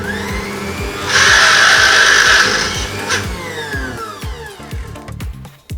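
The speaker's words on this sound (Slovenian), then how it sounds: "to je zvok, ki nam pove, da je spojnik izrabljen" A blender motor with a worn drive coupling whirs and grinds loudly for about two seconds, then winds down with a harsh rattling, clicking coast-down as the blades slow.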